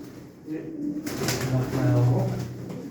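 Young racing pigeons, nest siblings, coo in a low rolling murmur close by, the throaty calls swelling through the clip with faint rustling behind.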